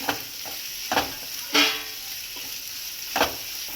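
Egg mixture spread in a hot pan with leafy amaranth, a low sizzle broken by a few sharp clinks and scrapes of a utensil against the pan.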